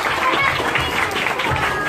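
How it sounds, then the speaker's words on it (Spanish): Dense, steady audience applause fills a children's show, a continuous wash of many hands clapping at close range with some crowd noise mixed in. "Un aplauso fuerte."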